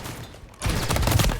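Gunfire in a competitive video game match, a quick burst of shots after a short quiet moment, loud and close.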